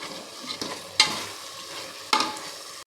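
Masala for mushroom biryani stirred in a pan, with two distinct spatula scrapes over a soft, steady sizzle.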